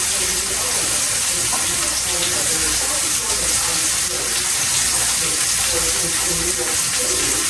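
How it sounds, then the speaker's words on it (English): Water runs steadily from a tap as hands are rinsed, a constant loud, close hiss and splash with no break throughout. "I rinse my hands. I wash my hands 42 times a day."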